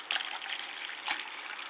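Inorganic potting media for phalaenopsis orchids being poured into a small container, a brief continuous rattling hiss of loose granules close by with no talking.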